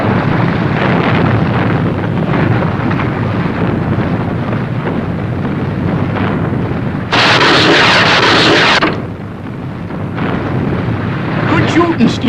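A line is fired from a gun as a sound effect in the 1963 sci-fi puppet series Fireball XL5, heard as a loud rushing, hissing burst over a rumbling background of engine-like noise.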